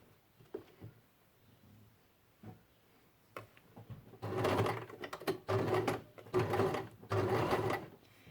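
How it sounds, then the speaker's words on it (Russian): A sewing machine runs a straight stitch along pin tucks on a quilt, starting with a few quiet clicks before several loud, rapid bursts of stitching with short pauses between them. "И аккуратненько, где-то на расстоянии 1-2 миллиметра мы делаем прямую строчку."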